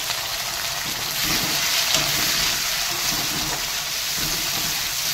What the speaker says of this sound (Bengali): তাহলে পেঁয়াজগুলো দিয়ে দেবো, লাল লাল করে দেবো